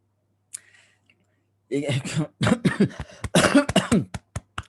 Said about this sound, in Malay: Batuk cikgu.